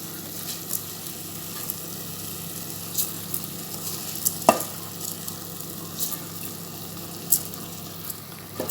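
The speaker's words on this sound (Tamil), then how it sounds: "அரிசி சேர்த்த உடனே இப்போ லைட்டாக கிண்டி விடுங்க" Drained soaked rice is gently stirred into a pot of chickpea biryani. A close, steady sizzle runs throughout, with light, scattered scrapes and clinks of the spoon against the pot.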